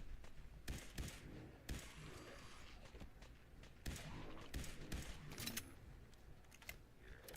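Gunfire from the Fallout 4 video game, a scattered run of sharp, fairly faint shots and thuds spread irregularly across the stretch with no speech.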